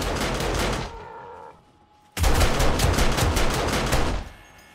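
SMG turrets blaze away in the survival game 7 Days to Die: a loud, rapid stream of automatic gunfire, a short lull, then a second long burst of fast, evenly spaced shots that stops abruptly.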